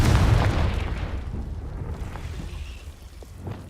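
A Confringo blasting curse explodes in Hogwarts Legacy with a loud, deep boom at the start that fades into a long rumbling tail, with no talking over it.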